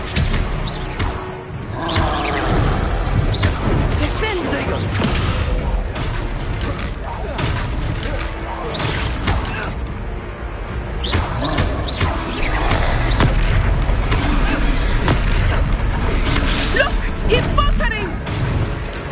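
An Expelliarmus spell blast in the Hogwarts Legacy video game, dense booming spell impacts and crackling combat effects piling up loudly throughout, with voices speaking over the mix.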